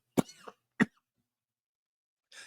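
Two short, sharp coughs close together, followed by quiet and a faint breathy rustle at the end.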